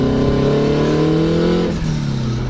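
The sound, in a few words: big turbo Honda S2000 accelerating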